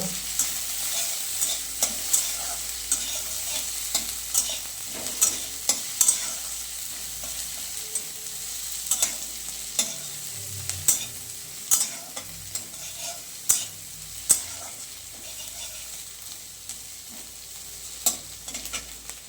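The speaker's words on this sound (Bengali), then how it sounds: "টমেটোগুলো দিয়ে দিলাম একটু জাস্ট ফ্রাই করে নেবো" Chopped garlic, ginger and tomatoes frying in a pan, a steady close sizzle broken by repeated scraping and clinking of a spatula stirring, no talking.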